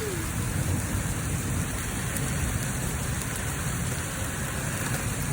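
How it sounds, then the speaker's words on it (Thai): Steady, heavy rain pours down without a break, with fairly strong wind, a dense broadband hiss with a low rumbling undertone throughout. "แต่ว่าฝนมันหนัก ฝนมันก็ยังหนักอยู่"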